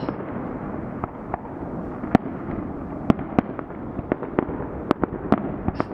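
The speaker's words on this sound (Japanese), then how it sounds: "毎週こんな立派な花火でやってるのすごいね。" Fireworks over Sydney burst in quick irregular succession, sharp bangs and cracks popping over a continuous rumbling backdrop, some loud and close, others softer and farther off.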